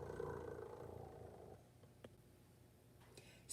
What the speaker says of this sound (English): Do you know what a cat purr sounds like?